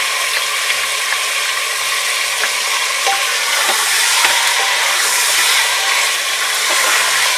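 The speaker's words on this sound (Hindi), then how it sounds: "करीब 1 मिनट हम इसी तरह भून लेंगे इसको, इसका कलर चेंज हो जाए चिकन का" Chicken fries with ginger garlic paste in a pan for a degi-style qurma. A loud, close, continuous sizzle is broken by repeated scraping stirs.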